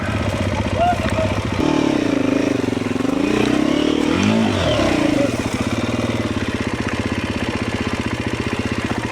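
A BMW 1300 GS Adventure motorcycle engine drones and revs loudly and close on a wet single track, its pitch rising and falling as it labors, with a rider's voice over it.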